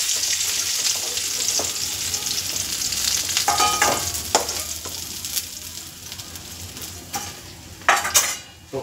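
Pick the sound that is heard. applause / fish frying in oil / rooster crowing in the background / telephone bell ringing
fish frying in oil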